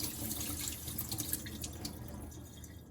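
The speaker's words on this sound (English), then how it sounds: "quickly rinse off any impurities that will affect our hot pot stock later" Running tap water pours steadily over ingredients being rinsed to remove impurities before hot pot stock, a continuous splashing wash with occasional drips and no talk.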